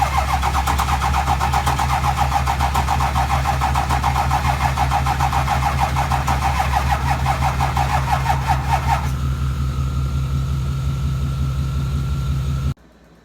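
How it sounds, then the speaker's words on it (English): 2006 Ford F-250 with low batteries cranks for about nine seconds without firing, a loud rapid starter chatter over a droning engine hum that carries on after the cranking stops, then cuts out abruptly. "I was trying to jump start it, but had to give up"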